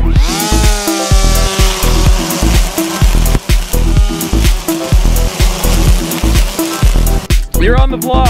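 An EGO cordless battery-powered string trimmer runs in loud, repeated bursts, revving up and cutting out in quick pulses as the trigger is squeezed and released, close by.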